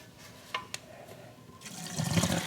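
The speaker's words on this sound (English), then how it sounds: "I'm going to dump the beans right into that strainer, then we will rinse them and put them in the pot." Soaked black beans tipped into a sink strainer and rinsed under running water, with a couple of sharp knocks early on, then a steady rising rush of tap water splashing through the strainer, close by and growing louder.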